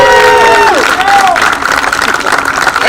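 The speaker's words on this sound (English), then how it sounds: "let's give him a round of applause," Audience at a classic car club's evening meeting clapping and cheering, a loud dense crowd sound with a few tonal whoops or voices riding on top, sustained throughout.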